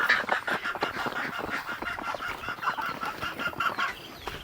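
Young heritage chickens cluck and chirp in a busy, continuous flurry of short calls, fairly close and loud, with no talking.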